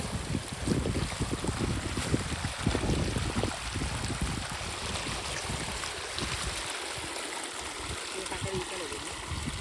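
Water gushes steadily from a loose pipe fed by a sump motor on a village farm, a continuous near rushing flow with wind buffeting the microphone throughout.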